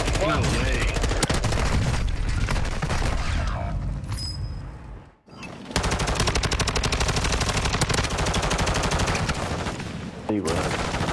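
Dense, continuous gunfire in Warzone 2, with overlapping bursts and booms filling most of the stretch, a brief drop to near quiet around the middle, then heavy firing resuming and running loud to the end.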